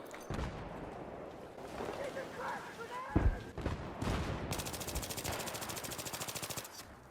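Video game gunfire from an AEK rifle, with scattered shots and then a long rapid automatic burst near the end, amid busy game noise and a voice talking over it.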